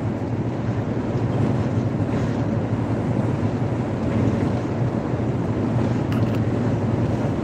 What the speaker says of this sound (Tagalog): Ganyan talaga pag malakas yung hangin.